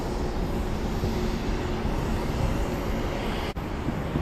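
A Southwest airliner approaching Hollywood Burbank Airport produces a steady, loud broadband engine roar that fills the whole stretch without letting up.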